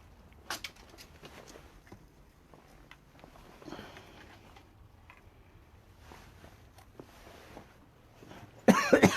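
A person coughs several times indoors on a historic village visit, brief sharp bursts scattered over a quiet background, with a louder cluster of coughs close to the microphone at the end.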